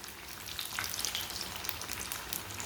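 Aloo tikki potato patties fry in a pan over moderate heat, giving a soft, steady crackling sizzle with scattered pops, close and unbroken.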